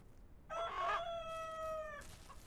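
A single chicken in the farming game Ranch Simulator Southwest lets out a loud, drawn-out crow close by, briefly alone with faint background ambience.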